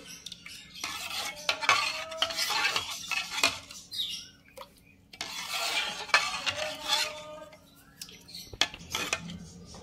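A spoon scrapes and clinks in a bowl while rice flour mixture is stirred and mixed, in uneven bursts separated by short pauses, fairly close and moderately loud, with no voices.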